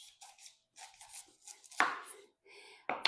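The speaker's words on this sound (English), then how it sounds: "Just cut that with a knife." A kitchen knife cuts the green leaves off a head of cauliflower. The cuts come as a run of crisp, close chops at an uneven pace, with one louder slice near the end and no voices.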